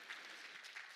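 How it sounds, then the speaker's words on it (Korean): Applause from a forum audience for a visiting professor at a youth leaders' forum in Jeju, a dense, steady patter of many hands, quite faint and distant throughout the short moment. "저 요한나 할그레님 교수님께 다시 한번 큰 박수 부탁드리겠습니다"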